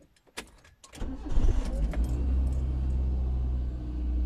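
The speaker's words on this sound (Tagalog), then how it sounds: "So try ulit natin i-turn on yung engine natin." A car engine is cranked and starts during a cigarette lighter socket repair after a blown fuse. Brief clicks and a short crank lead to the engine catching, and a steady, loud rumbling idle then continues close by.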